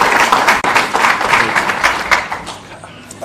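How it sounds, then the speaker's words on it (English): An audience applauds to welcome a speaker at a formal event, a dense, steady clatter of many hands that fades slightly toward the end. "Let us give him a hearty clap as we welcome him to speak"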